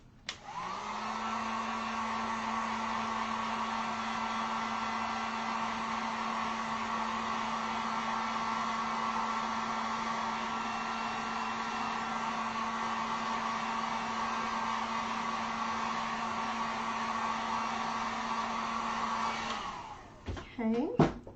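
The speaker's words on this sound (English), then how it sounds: "Let me throw my heat gun on." A heat gun used on an acrylic painting blows with a steady whirring hum for about twenty seconds after a click on, then cuts off with a short clatter of handling at the end.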